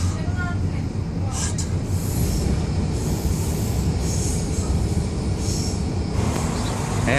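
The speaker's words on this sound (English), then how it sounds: "And there goes my train." A train runs along the rails in Romania, a loud continuous rumble of wheels with metallic squeals, heard close from on board for the whole stretch.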